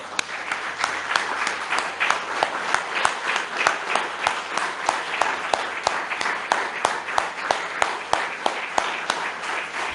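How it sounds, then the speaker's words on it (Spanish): A congregation at a Jewish Shabbat service claps in a steady, rhythmic unison beat, loud and sustained throughout with no break. "Den un aplauso a Hashem"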